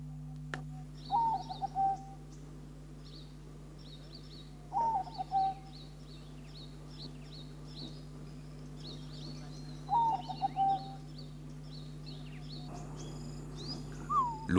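Birds calling in the morning, short whistled phrases repeating every few seconds against a steady low hum, with fainter high chirps scattered between them.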